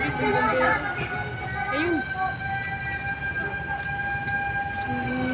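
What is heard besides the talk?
fire truck siren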